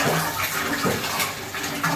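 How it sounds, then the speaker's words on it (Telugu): Water gushes fast from a newly fitted pipe into a storage tank, a close, loud, unbroken rushing flow with no voices. "నీళ్ళు ఇప్పుడు పెద్ద స్పీడ్గా వస్తలే"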